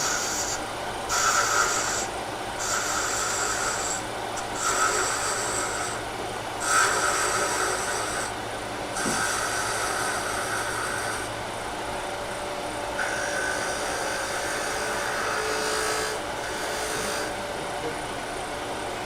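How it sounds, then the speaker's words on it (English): A spindle gouge cuts into wood spinning on a lathe while a finial ornament is turned, giving a steady rasping hum broken by brief rhythmic dips as the tool moves along. "go to our friendly spindle gouge and let's start taking some of this away"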